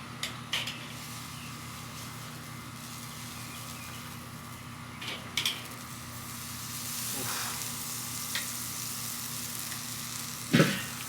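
Flank steaks on a grill give off a steady, close sizzle and hiss, with a few sharp metallic clinks and scrapes breaking in now and then.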